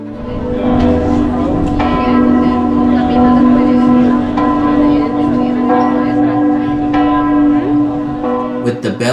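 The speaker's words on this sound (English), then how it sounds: "With the bells tolling" Church bells tolling at the Fátima shrine, a loud, sustained ringing that swells and overlaps continuously, close by with a dense metallic hum beneath.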